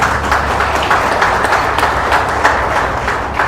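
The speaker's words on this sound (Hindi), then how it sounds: "जोरदार सर के लिए तालियां" An audience gives a steady burst of applause for a guest speaker at a law talk, dense clapping at even loudness throughout.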